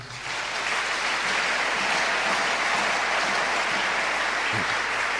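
A church congregation at a pastor's sermon applauds and cheers in acclamation of Jesus, a dense, sustained roar of clapping that holds steady throughout.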